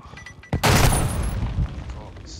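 Gunfire in Call of Duty Modern Warfare II, with a loud close blast of shots and a rumbling boom that fades over about two seconds, under a raised voice.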